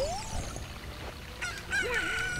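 A chicken in The Legend of Zelda: Ocarina of Time lets out loud, close squawks and a rising crow-like call, sharp and nasal over a faint game backdrop, with no speech.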